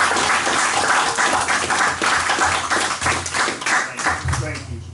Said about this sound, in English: I think we need to give her a big hand and a round of applause.